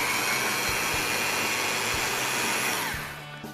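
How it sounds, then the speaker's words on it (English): A Rotovac portable carpet cleaning machine runs with a loud, steady roaring whine as its two cleaning heads counter-rotate at 250 RPM while spraying, scrubbing and vacuuming. The sound stays constant, then drops off near the end. "the Rotovac has two cleaning heads that counter-rotate at 250 RPM"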